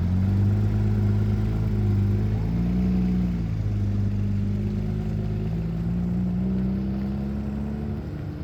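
A Porsche GT3 RS with side and center muffler delete and stock headers and cats drones steadily on track, its engine and exhaust tone rising and falling gently through the run, loud and continuous with no talking.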